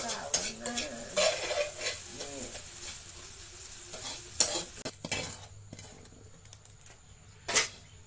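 Egg frying in a pan for fried rice: a steady sizzle with stirring and scraping, plus a few sharper clinks of utensil against pan near the end.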